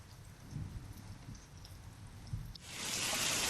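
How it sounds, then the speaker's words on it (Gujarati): Heavy unseasonal rain with thunder in Chhota Udepur district: a low rumble and scattered drops at first, then a dense, loud downpour hiss swelling in the final second, with no voices. "છોટાઉદેપુર જિલ્લામાં વહેલી સવારથી ગાજવીજ સાથે ધોધમાર વરસાદ પડ્યો"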